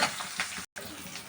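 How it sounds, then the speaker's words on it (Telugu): Onion and green chillies frying in a pan for a drumstick curry, a brief steady sizzle with crackling bursts, close and moderately loud, with one sudden cut to silence. "ఒక 5 నిమిషాల పాటు వేయించుకుందామండి ఎర్రగడ్డ."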